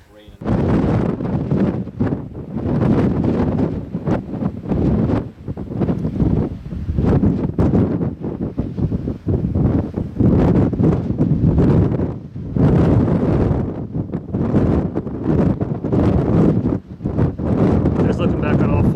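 Strong gusty wind buffeting the microphone on an exposed summit of the Four Peaks in Tonto National Forest, Arizona, roaring almost continuously with a voice speaking intermittently beneath it.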